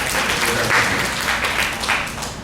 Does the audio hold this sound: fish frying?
no